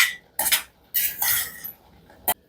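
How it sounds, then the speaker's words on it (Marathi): A metal spoon scrapes and clinks against a pot while stirring barnyard millet khichdi, in several short, close, bright bursts separated by quiet gaps. "1 मिनिटभरच मी झाकण ठेवलं होतं आणि आता मी हे असे ढवळून घेणार आहे"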